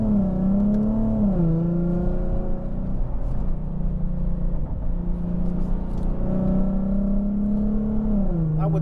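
A car engine revving and holding loud steady tones, the pitch rising and falling several times, close and continuous with no voices over it.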